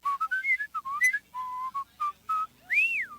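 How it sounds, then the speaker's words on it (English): A champion whistler performs a lively, melodic run of clear pitched notes, short trills and a rising, swooping final phrase, loud and close with no other sound. "calling whistling a very happy thing"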